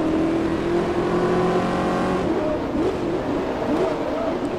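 Shelby Cobra race cars in Forza Motorsport 2 running a multi-lap race, engine drone with shifting pitch and a wavering tone later on, sitting under continuous talk.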